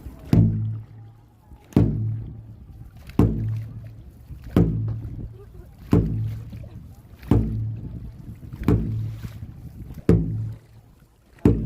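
A dragon boat crew strokes in unison on open water during a national sports day event, each pull landing as a sharp splash-and-thump roughly every 1.4 seconds in a steady rhythm, with wind and water noise between strokes.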